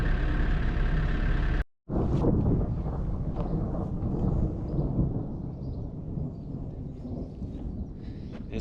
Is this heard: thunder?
yes